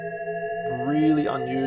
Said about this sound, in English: I've been fascinated by this, by Shepard Tones for many years now.